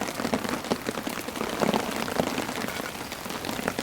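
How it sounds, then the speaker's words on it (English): Heavy rain pours onto a camping tent, a dense, constant patter with scattered sharper drops striking the fabric, loud and close with no voices. "Nah, it's raining too much."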